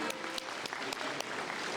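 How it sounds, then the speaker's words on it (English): A crowd at a city's State of the City event gives steady applause for a high-school band, dense clapping with a few sharper claps standing out, heard alone. "So give them a round of applause."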